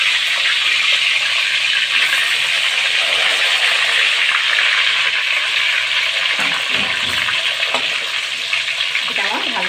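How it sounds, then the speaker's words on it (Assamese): Chicken pakoras frying a second time in hot oil, giving a loud, continuous, close hiss of bubbling fat with a few brief scrapes near the end. "মই আকৌ পিচকেইটা এইকেইটা পকৰা ভাজি লওঁ"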